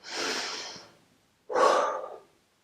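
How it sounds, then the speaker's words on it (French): A person breathes deeply during a gentle low-impact exercise class, giving two slow, close breaths separated by a short pause, the second sharper and more forceful, with no talking. "On va prendre 4 respirations."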